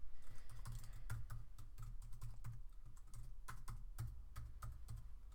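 Rapid typing on a computer keyboard while entering a username and password at a WordPress login screen, the keys clacking close and steady in quick irregular bursts, with no voices.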